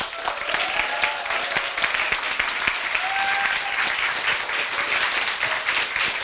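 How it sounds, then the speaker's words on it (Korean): A lecture-concert audience gives loud, sustained applause to welcome a speaker, with continuous dense clapping throughout and no talking. "우리 이동규 박사님을 큰 박수로 모시도록 하겠습니다"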